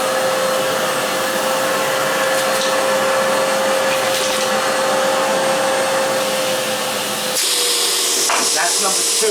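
A Milwaukee M18 backpack vacuum runs with a loud, steady high-pitched whine of suction near a wooden workpiece, then shifts abruptly to a different speed near the end.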